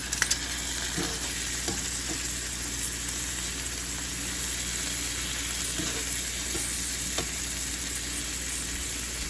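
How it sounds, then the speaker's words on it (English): Capers and onions fry together in a pan for chicken piccata, a steady close sizzle with occasional scrapes of stirring throughout, no voices. "kind of mix the capers in with the onions on the edge of the pan."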